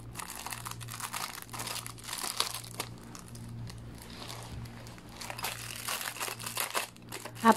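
Plastic wrapper of an online shopping package crinkling and rustling as it is unboxed, continuous close handling noise with brief tearing and crunching bursts throughout, with no voices.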